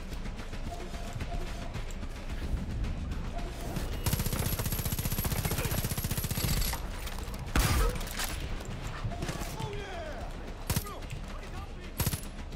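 Gunfire in the Far Cry 5 PC game crackles in rapid bursts and scattered single shots, with a sustained volley in the middle and occasional louder impacts, under a dense game soundscape.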